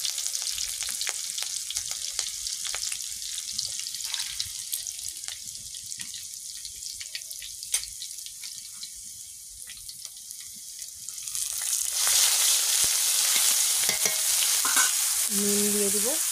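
Onion paste sizzles and spits as it hits hot oil with green chillies and five-spice seeds in a pan, with steady stirring and a louder hiss swelling near the end; no one speaks.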